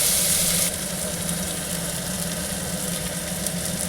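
Chopped onions frying in hot oil in a wok, a steady dense sizzle that holds evenly throughout, slightly brighter and louder in the first moment before settling into a continuous hiss.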